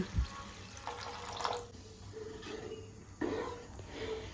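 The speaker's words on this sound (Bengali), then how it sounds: "এবার দিয়ে দেব পরিমাণ মতো জল" Water is poured into a pan of Maggi noodles in two short, gentle splashing bursts over a quiet kitchen background, faint and close, with no speech.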